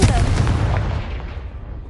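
Confringo fire spell in Hogwarts Legacy bursts with a loud, booming blast at the start, then a rumbling tail that trails away over about two seconds.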